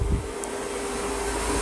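A Roborock Saros 20 robot vacuum and mop runs steadily in a room, its motor giving off an even, continuous whir close by, with a light bump near the start and no talk.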